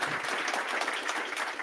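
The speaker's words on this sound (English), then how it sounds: "Big round of applause." Audience applause after a panel discussion at a trading conference, a dense steady clapping from a crowd filling the whole moment without pause.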